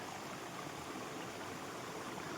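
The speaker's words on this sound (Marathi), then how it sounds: "तर हे पहा इकडे पाणी कसं वाहतं मित्रांनो खळखळ खळखळ अशा प्रकारे" Water flowing in a forest stream, a soft, steady gurgling rush that holds at an even, moderate level the whole time, with no talking.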